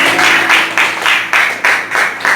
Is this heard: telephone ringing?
no